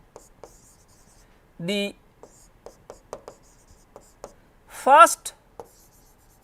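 Chalk or marker tapping and scratching on a board during a thermodynamics lecture, a run of short, quiet strokes between two brief bursts of a speaking voice.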